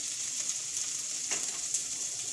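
Garlic, ginger and whole spices sizzle steadily in hot oil for a boiled potato curry, a continuous bright hiss with no one speaking.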